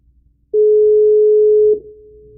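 Steady single telephone tone sounding loud and clean for just over a second while a call is placed back during a live debate, then dropping to a faint lingering hum.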